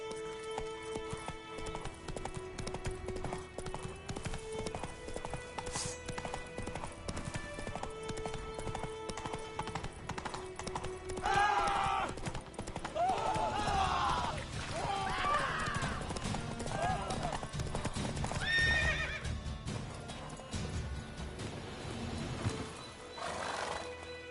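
Horse galloping in The Witcher 3, a steady rhythmic clip-clop of hooves throughout, joined midway by several loud neighs and whinnies over background game music.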